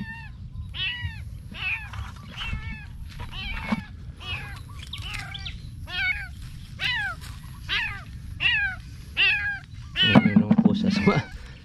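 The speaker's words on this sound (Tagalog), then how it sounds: "Sumasama na sa atin yung pusa." Cat meowing repeatedly in short, rising calls at a steady rhythm, fairly close, over a low rumbling background, with a louder burst of mixed noise near the end.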